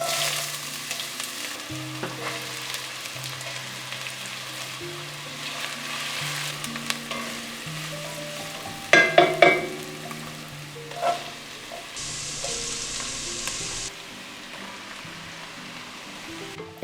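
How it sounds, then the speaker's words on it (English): Vegetables sauté in oil inside an Overmont Dutch oven, a steady close sizzle running throughout under soft background music, with a few louder clatters of utensils near the middle. "Just look at those perfectly sautéed veggies."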